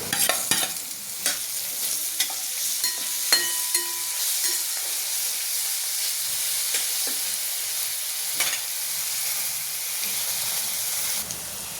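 Browned onion with green masala paste frying in a pan for a pigeon pea pod amti, a continuous hissing sizzle with occasional spoon scrapes and knocks.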